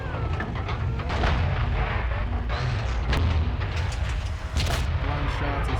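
Tank cannon shots fired blind in the World of Tanks video game, heavy booming blasts rolling under a continuous rumbling battle bed, several impacts spread across the stretch.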